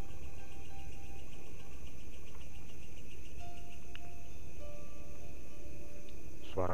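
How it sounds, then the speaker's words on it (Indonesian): Crickets and beetles chirp steadily through the night in a forest, a dense constant insect drone with a few higher tonal calls, moderately loud and without voices. "jangkrik, hewan-hewan malam, gila banget men."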